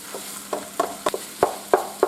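Meat and garlic cooking in a pan, soft sizzling broken by a series of sharp scraping or tapping stir strokes in an uneven rhythm, close and moderately quiet.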